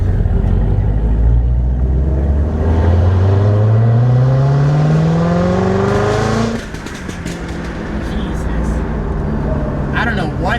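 A BMW M4 revs hard and accelerates close by, its engine note climbing steeply for several seconds before cutting off, then settling into a lower rumble as it pulls away; voices talk over it.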